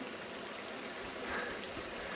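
A small creek flows along a mountain bike route on the Continental Divide, a steady close hiss and burble of running water filling the whole moment.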